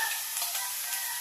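Bitter gourd (ampalaya) frying in a pan gives off a steady, close sizzle with a dense hiss and no pauses or voices.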